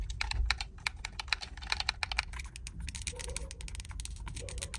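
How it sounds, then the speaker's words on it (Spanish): Mechanical face buttons on a Mobapad M6 HD gamepad are pressed in quick irregular bursts of crisp, close clicks, with a brief pause before a sparser run of taps. "Ese pequeño sonido de clic de cada uno de los botones mecánicos hace que se sientan muy bien"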